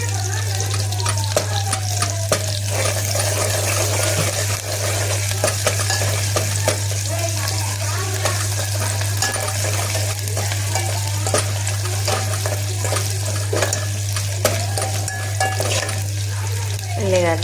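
Chopped onion, green chilli and ginger sizzle steadily in hot oil in a pan, with occasional scraping and clinks from stirring, loud and close with no talking.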